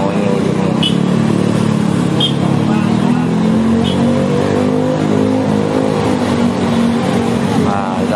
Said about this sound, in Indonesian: Ini terjadi kepadatan kendaraan ya.